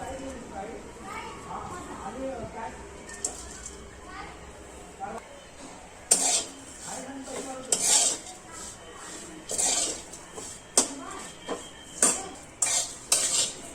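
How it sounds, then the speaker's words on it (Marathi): A spatula scrapes and stirs repeatedly in a pan in rhythmic bursts as dry coconut is roasted, with someone speaking at the start. "त्याच कढईत आता मी सुक्कं खोबरं भाजून घेते"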